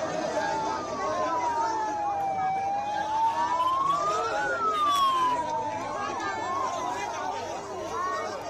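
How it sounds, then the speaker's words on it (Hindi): Ambulance siren wailing in a rising and falling sweep as ambulances drive off carrying rescued workers from the Uttarkashi tunnel rescue in India, loud and continuous over crowd chatter. "अब एम्बुलेंस ये सभी इन श्रमिकों को लेकर रवाना हो रही है"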